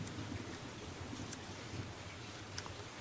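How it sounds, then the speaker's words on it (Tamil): Steady rainfall hisses throughout in a Tamil dubbed drama scene, a soft, even wash of falling rain with faint low rumbles and no speech. "மழை பெய்யுது."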